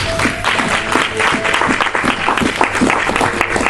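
A church congregation applauding together, loud, dense clapping from many hands that continues without a break, with a faint low hum beneath it.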